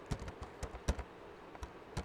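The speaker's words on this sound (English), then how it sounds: "I'm typing this" Keys tapping on a computer keyboard in an irregular rhythm, a handful of close, crisp clicks with short pauses between them.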